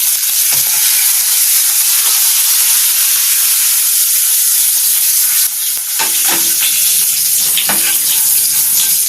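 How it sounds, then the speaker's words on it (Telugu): Tempering sizzles steadily in hot oil for a cucumber roti pachadi (chutney), a continuous loud frying hiss with a few sharper crackles and stirring scrapes near the end. "తాలింపు వేగిపోయిందండి"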